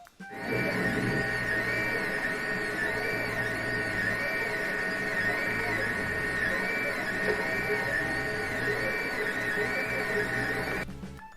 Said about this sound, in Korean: 화면을 보면 여러분 3D 프린터에서 피제 스피너를 출력하는 것을 확인할 수 있었습니다